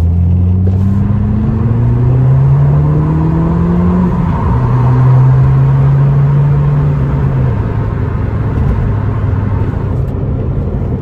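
Ford ST car fitted with a five-cylinder Volvo engine and standard exhaust accelerating hard, loud rising engine roar climbing through several gears with pitch drops between shifts, close and continuous with no talk.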